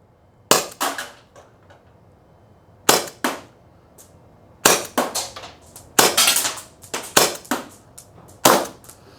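Less-lethal launcher firing six rounds at targets 60 feet away, sharp loud pops spaced irregularly with a couple of quick doubles and faint impact or ricochet clicks between shots, no talking.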